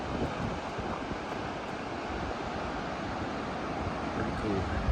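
Ocean surf washing onto Indian Beach on the rainforest-fringed Pacific coast of Oregon, a broad, steady roar of breaking waves with wind buffeting the microphone throughout.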